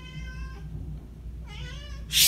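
A cat meows twice during a severe thunderstorm, a drawn-out call then a second wavering one, fairly close, over a low background rumble of thunder; a brief burst of noise ends it.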